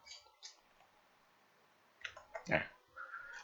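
A few quiet key clicks on a computer keyboard while entering a formula in Microsoft Excel, with soft scattered taps early on and a short cluster of sharper clicks near the end.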